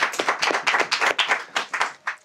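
A studio audience applauds at the start of a French music show, a brief burst of crisp, close hand clapping without voices.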